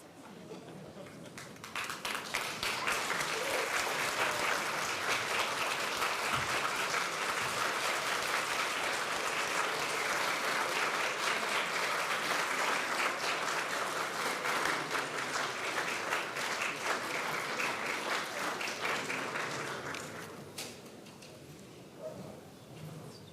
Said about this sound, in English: I ask the graduates to now rise and applaud their supporters in the audience.